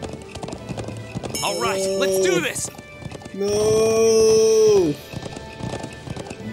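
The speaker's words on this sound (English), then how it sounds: "it's hard to control this horse" Hooves clip-clop steadily while a horse in the video game Trails of Cold Steel gives two long, loud whinnies; someone speaks briefly between them.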